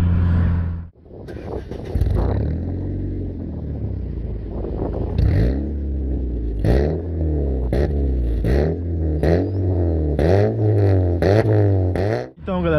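A Honda Civic fitted with a sport exhaust muffler revs repeatedly, the loud raspy engine note rising and falling in a steady series of blips, close to the microphone with no talk.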